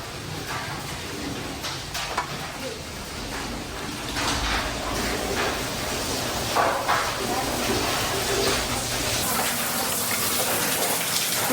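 Hail falls steadily in Las Vegas on a hot day, making a dense continuous rattling hiss like heavy rain on surfaces, loud and unbroken throughout, with faint voices in the background.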